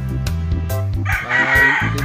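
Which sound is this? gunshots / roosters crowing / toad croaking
roosters crowing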